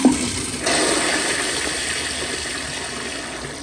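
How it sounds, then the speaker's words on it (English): A 2005 Gerber Ultraflush toilet flushes with a sharp pressurized whoosh, followed by a loud, steady rush of water draining and refilling close by. "But here is another flush."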